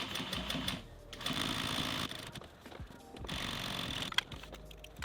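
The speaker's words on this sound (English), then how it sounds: "I'm gonna go over to my sewing machine and top stitch that flap down from the right side" A sewing machine top-stitches a flap down on a pair of wrap pants, running in steady bursts with short pauses between them, close and fairly loud, with no talking.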